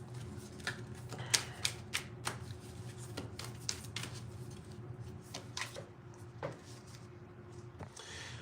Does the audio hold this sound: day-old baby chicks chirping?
no